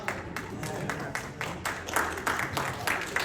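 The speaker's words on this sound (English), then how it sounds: "Couple claps." Scattered audience clapping at a Monster Bash event in Cranberry, Pennsylvania, a light, uneven patter of a few claps, fairly faint, with talking over it.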